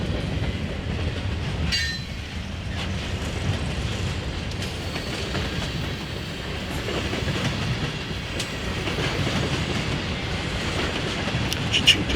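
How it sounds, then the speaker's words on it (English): A mixed Norfolk Southern freight train of tankers, boxcars and hoppers rolls past close by, with continuous rumbling and rhythmic clickety-clack of wheels over rail joints and faint squeals. "Mixed consist of cars, we have tankers, boxcars, hoppers, the whole 9 yards."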